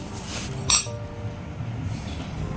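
A spoon stirs raw mango and sugar mixture in a metal vessel, giving one sharp clink against the side followed by soft scraping and faint rattles, close and fairly quiet.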